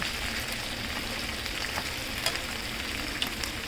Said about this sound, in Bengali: চিকেনটা এরকম আর কি ব্রাউন কালার করে ভেজে ফেললাম